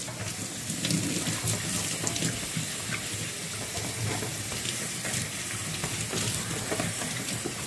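A clogged air-conditioner filter is rinsed under low-pressure running water, giving a continuous splashing, trickling patter with small irregular spatters and no speech.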